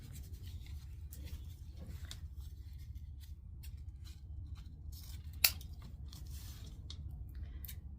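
Scissors trimming and angle-cutting wreath material, with quiet snipping and rustling close by against a low steady hum and one sharper cut partway through.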